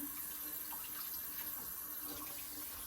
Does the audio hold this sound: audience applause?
no